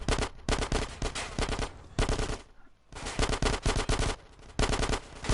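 Gunfire in GTA San Andreas: dense bursts of automatic machine-gun fire rattling loud and close, broken by a brief lull near the middle before the shooting resumes.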